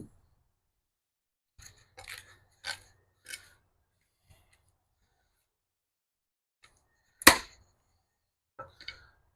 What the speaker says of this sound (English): Let's just chop through a couple of branches as if you were clearing something off to make your fire.